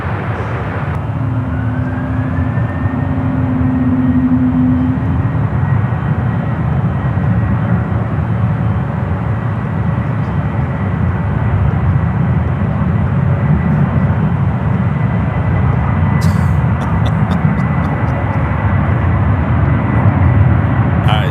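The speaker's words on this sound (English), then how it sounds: "JetBlue A321 now rolling down to 28 left" A JetBlue Airbus A321 jet rolls for takeoff on runway 28 left at SFO, a loud continuous engine roar holding steady throughout, with a faint rising whine early on.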